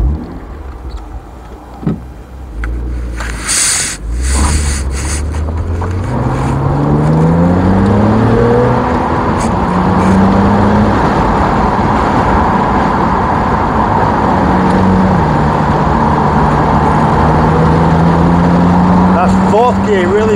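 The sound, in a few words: BMW Z4 twin turbo car driving up a hill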